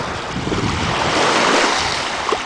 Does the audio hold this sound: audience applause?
no